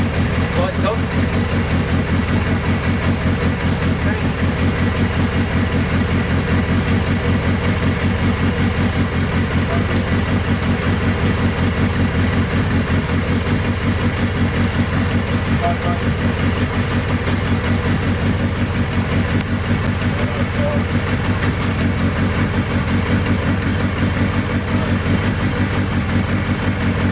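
A motorcycle engine idles steadily throughout, a constant low running drone while the bike is checked before a ride, with a person speaking over it.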